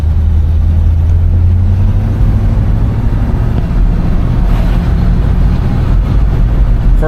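A 1972 Oldsmobile Cutlass with a 350 engine drives along, giving a loud, steady low rumble with continuous road and engine noise.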